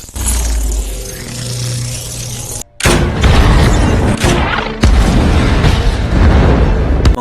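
A big explosion erupts in a film scene after Sarah shoots John: loud, rumbling booms fill the whole stretch, with a brief cut near the middle and then renewed roaring blasts and crackling debris.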